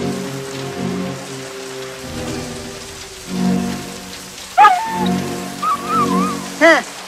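Rain falls steadily on surfaces with a soft continuous patter on a rainy day, while brief voices and music-like tones rise over it now and then.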